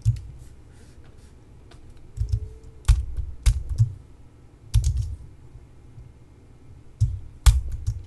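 Computer keys are pressed in short clustered clicks at close range, with scattered single taps and small bursts separated by quiet gaps and a faint background hum.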